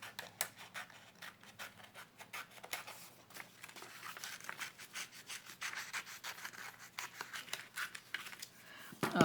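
Scissors fussy-cutting a paper flower for collage, giving a steady run of close, dry snipping and rubbing sounds with soft paper crinkles, fairly quiet, no talking.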